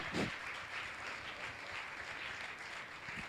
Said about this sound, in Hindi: जोरदार ताली बजाकर इनका सम्मान करें